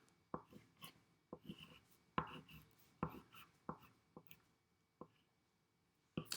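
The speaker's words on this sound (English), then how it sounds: "take your crayon or your marker pen, and I want you to write love somewhere on your paper" A crayon or marker pen writing on paper: short, quiet scratchy strokes in an uneven rhythm with pauses between them, close by and with no talking.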